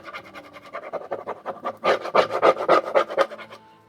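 A stick rubs a paint transfer onto a wooden riser in quick back-and-forth strokes, a close, scratchy rhythmic scraping that grows louder and faster midway.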